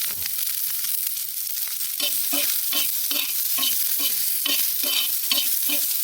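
A large onion frying in a spoonful of oil on a griddle for patwadi rassa, a steady sizzle with a regular rhythm of scraping stirs, close and fairly loud with no voices.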